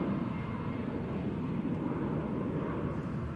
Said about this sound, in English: Jet2 A321 Neo heading to Ibiza